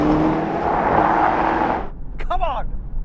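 A Porsche Panamera Turismo and an AMG E63 S roar at full throttle side by side in a drag race, loud and close, before the engine noise cuts off abruptly and an excited voice follows.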